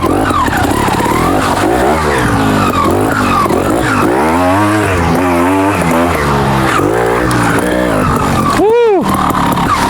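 A trials motorcycle climbs a slippery, steep hill in second gear on tyres set to a test pressure; the engine revs loudly, rising and falling in repeated surges close by, with brief wheel-spin bursts.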